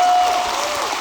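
Audience applause at a tech conference talk, Laracon US 2024 in Dallas: a loud, dense burst of clapping from a large crowd, steady for about a second with a faint tone running through the first half.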